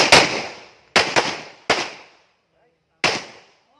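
Pistol shots on an outdoor firing range during a basic combat pistol course: four sharp, loud reports, two of them in quick succession, each with a decaying echo tail, with short silences between.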